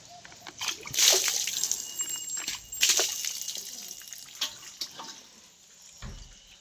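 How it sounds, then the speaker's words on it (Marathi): Water is splashed by hand onto a buffalo before it drinks: several irregular, close splashes and sloshes, strongest early on, with dripping and quieter gaps between them. "थोडंसं तिच्या अंगावर पाणी मारलं म्हणजे म्हशी भरपूर पाणी पिते त्या"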